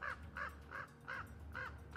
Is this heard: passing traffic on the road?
no